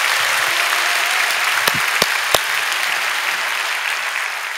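Steady applause fills a church hall as the congregation at a Friday night service claps for the high school group, many hands blending into a continuous wash with a few sharper claps standing out.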